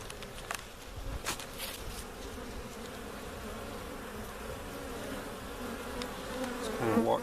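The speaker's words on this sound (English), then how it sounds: "the bees are really active today" Honey bees buzz around a beehive on an overcast spring day at a homestead bee farm, a dense continuous hum of many insects close by with occasional louder passes.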